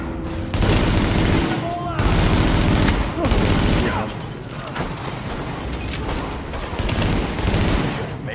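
Dense bursts of automatic gunfire in The Division video game, loud rapid volleys in several waves with brief pauses, some booming impacts mixed in.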